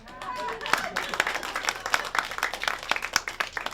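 An audience claps, a dense patter of many hands with sharper individual claps standing out, steady and moderately loud throughout.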